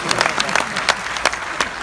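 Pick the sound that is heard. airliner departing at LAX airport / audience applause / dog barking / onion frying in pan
audience applause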